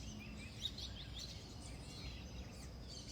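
Birds chirp and sing faintly in the distance during a quiet, silent moment, with a few small twittering calls over a low, steady background hush.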